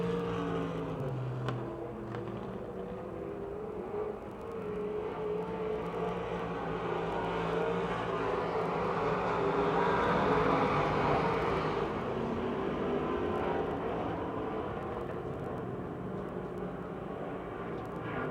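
Crate late model race cars circle an oval speedway, Pennsylvania Motor Speedway near Pittsburgh, on the final lap, a continuous blended engine roar from several cars that rises and falls gently as they pass at a distance, without talk.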